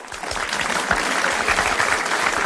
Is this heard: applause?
yes